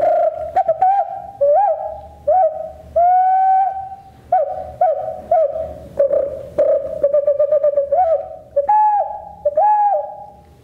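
A pre-Columbian style clay wind instrument, made from La Rioja clay, plays loud warbling whistle calls that imitate birds. The calls come in short repeated phrases with brief pitch swoops, heard alone.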